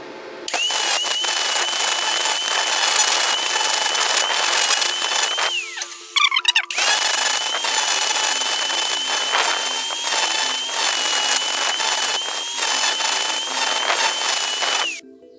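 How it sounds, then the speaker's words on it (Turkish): An angle grinder with a wire wheel strips excess weld from a repaired metal fishing rod holder, a loud steady high whine running continuously, briefly pausing midway with a short clatter before resuming, no talking. "Fazlalıklarını zaten ispiralle e, sıyırıp alacağım."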